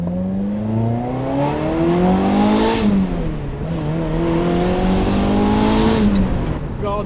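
A Ferrari 355 engine pulls hard while driving, rising through the revs twice with a gear change between, loud and close from inside the car. The tone is smooth, rich and high-pitched.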